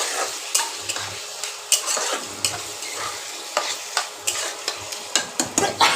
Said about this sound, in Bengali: সয়াবিনটা একটু নেড়ে নিয়ে তারপরে আলু দেবো